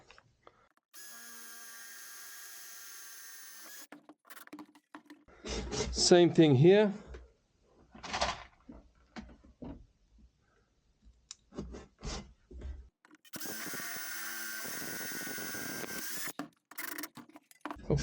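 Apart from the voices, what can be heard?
power drill drilling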